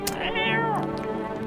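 A cat gives one clear, drawn-out meow with a rising then falling pitch, close and loud, in the video game No, I'm Not a Human.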